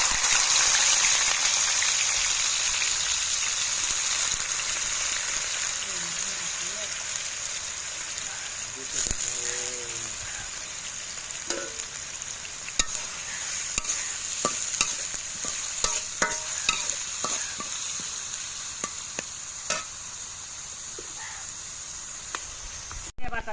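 Chopped onion and chili sizzle steadily in hot oil while a spoon scrapes and stirs through the pan, for a Bengali curry of taro stolons and rohu fish; the frying hiss stays constant, with scattered close clinks and scrapes and no talk.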